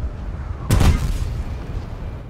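A single heavy naval gun shot booms in the video game World of Tanks during a beach landing operation, a sudden loud blast with a rumbling low tail fading over a second or so.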